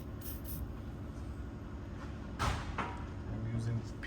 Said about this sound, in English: Also won't hurt spraying some penetrating fluid there.